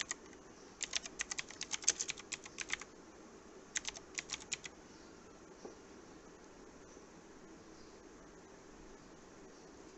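A computer keyboard typed on in two quick bursts of clicky keystrokes, faint and close over a quiet hum, then silence.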